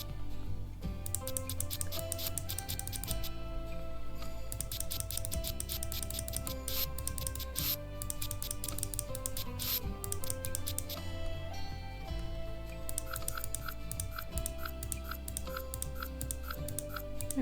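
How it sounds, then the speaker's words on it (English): Rapid clicking from a keyboard or mouse during a Sims 4 play session, heard in quick irregular runs beneath continuous, loud game music. "I think you can hear the clicking"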